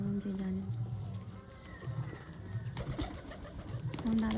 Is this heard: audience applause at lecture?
no